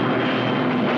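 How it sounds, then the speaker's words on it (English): Loud, steady roar of fighter planes fitted with extra fuel tanks taking off from Gibraltar, a dense continuous engine drone filling the clip without a break. "fighter planes from Gibraltar, fitted with extra fuel tanks, took off"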